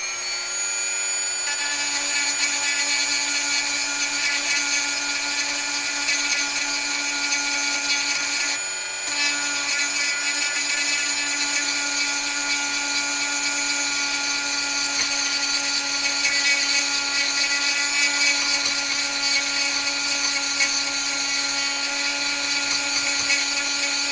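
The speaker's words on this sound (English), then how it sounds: "Alright, back to the Dremel, so prepare yourselves" A Dremel rotary tool grinds continuously at a high whine, close and loud, with a brief dip in the middle and a steady tone through the rest.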